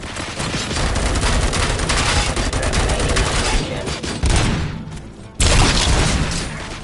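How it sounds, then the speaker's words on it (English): Gunfire in the video game RoboCop: Rogue City, a loud, sustained fusillade of rapid shots with booming hits, briefly cutting out near the end before the firing resumes. "Gunshots? What's going on?"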